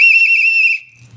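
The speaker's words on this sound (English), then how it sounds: "I'm gonna blow on the whistle, see what kind of sound it makes." Hard plastic bird-shaped keychain whistle blown once, a loud piercing steady tone held for most of a second before cutting off abruptly into near silence.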